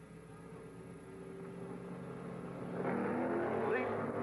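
A pack of sixty sports racing cars at the 1963 Road America 500 surges past the pace car at the start, a dense engine roar swelling louder near the end, with an announcer talking over it.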